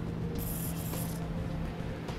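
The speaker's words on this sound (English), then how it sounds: "We're gonna go ahead and take some spray lubricant." A short hiss of spray lubricant from an aerosol can being sprayed onto the canister bolts of a 2007 Ford Freestyle during a trailer hitch install, one burst of about a second, close and fairly quiet.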